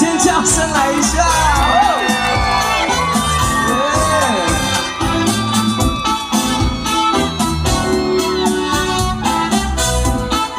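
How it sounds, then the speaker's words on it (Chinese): A concert crowd at an outdoor grape-season festival by a village train station cheers, whoops and screams loudly over continuing live music, a dense roar of voices that never lets up. "给自己掌声跟尖叫声来一下！"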